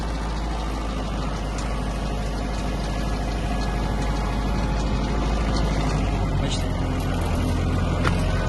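A Mitsubishi MT-246 Japanese mini tractor turns around its rear wheel while its engine drones steadily and loudly up close, with a low, constant rumble and a little clatter throughout.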